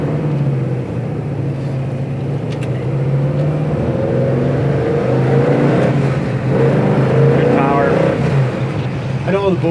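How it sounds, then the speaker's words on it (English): A Chevelle SS with a completely overhauled big block V8 rumbles and revs loudly and steadily throughout, with people talking over the engine. "Got a great big block sound, don't it?"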